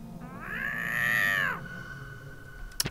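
Zombie cat in the video game Gregory Horror Show, a single long, drawn-out meow, clear and near, with a faint click or thump just after it ends.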